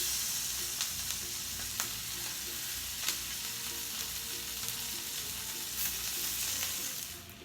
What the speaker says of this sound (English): I'm going to start frying the chicken so that we can get a nice brown on it